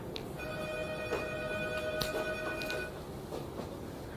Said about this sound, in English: Just a phone ringing randomly.